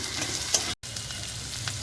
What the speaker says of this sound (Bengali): নেড়ে চেড়ে হালকা সতে করে দেবো, মানে হালকা ভেজে নেব।